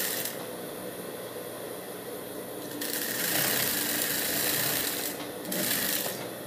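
An overlock machine sews a seam on fabric for a blue dress, humming in a steady, buzzing run that swells louder partway through, with a brief dip before resuming.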